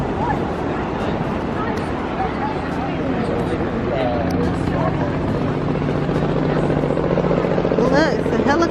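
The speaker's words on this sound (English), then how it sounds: "Look, it's a helicopter." A helicopter drones on in the background while a dog yips and whimpers and people talk nearby.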